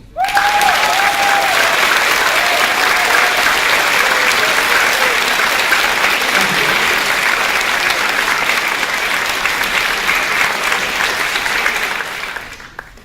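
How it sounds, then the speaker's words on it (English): Loud sustained applause from a large audience at the 2013 IYPT opening ceremony, thick continuous clapping with brief voices early on, tapering off near the end. "Let's give him a more stronger clapping."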